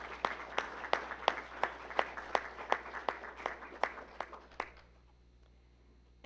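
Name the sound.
audience applause at a graduation ceremony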